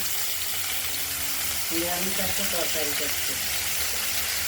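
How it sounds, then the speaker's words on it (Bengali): Panch phoron tempering with bay leaf and dried red chili frying in hot oil in a kadai, a steady close hiss and sizzle running throughout, with a voice speaking briefly partway through. "কড়াইতে 5 ফোড়ন দেওয়া হয়ে গেছে, তেজপাতা, শুকনো লঙ্কা,"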